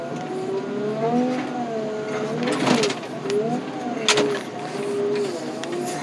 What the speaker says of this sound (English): We got us an old-fashioned tractor pull.